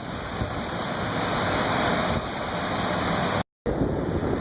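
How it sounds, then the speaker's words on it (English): Strong hurricane winds rush and roar steadily at a Cabo resort near the water at dusk, a dense, loud buffeting wash with a brief dropout near the end. "Wind's blowing like crazy through here."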